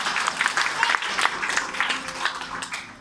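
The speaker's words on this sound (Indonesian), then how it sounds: "Tepuk tangan bagi Yesus" A church congregation claps in a dense, uneven patter that holds steady for a few seconds before easing off, with faint voices mixed into the crowd noise.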